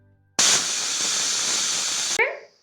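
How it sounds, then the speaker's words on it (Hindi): A pressure cooker boiling chickpeas and potatoes lets out one loud, sustained steam whistle lasting close to two seconds. It then cuts off abruptly and a brief hiss fades away. "तो इसको हम लगभग 1 सीटी आने तक इसको उबाल लेते हैं यानी पका लेते हैं।"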